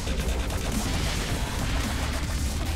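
Dubstep gun fire in Saints Row IV, a dense, continuous roar of bass-heavy blasts and crackling bursts that stays loud and unbroken throughout.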